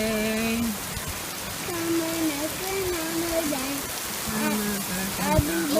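Heavy night rain pours in a steady wash around a leaking window, with faint wavering voice-like tones drifting over it.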